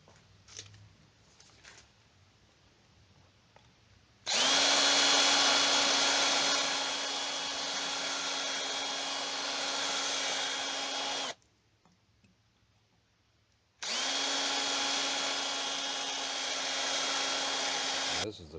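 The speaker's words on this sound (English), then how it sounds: "We got to drill those out." A power drill bores into a Craftsman battery plug in two long, steady bursts of whining, several seconds each, separated by a short quiet pause, loud and close.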